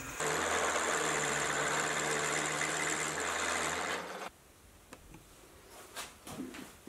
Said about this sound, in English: The final thing left to do is machine a 5/8 inch hole in the centre of the cast iron.